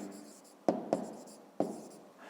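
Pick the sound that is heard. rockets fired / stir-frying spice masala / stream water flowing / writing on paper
writing on paper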